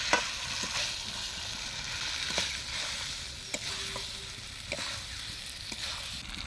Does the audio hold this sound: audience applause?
no